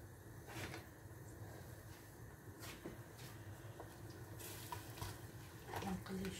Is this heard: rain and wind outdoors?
no